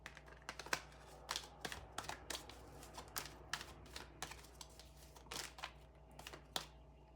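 Tarot cards being shuffled and drawn, heard as a quiet, close run of crisp papery flicks and taps in irregular bursts against a faint steady hum.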